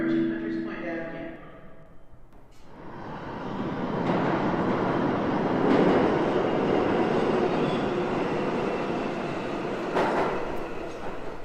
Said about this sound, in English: there is a Manhattan Bound 7 train approaching Hunters Point Avenue